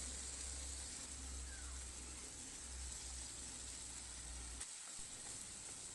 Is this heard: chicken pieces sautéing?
yes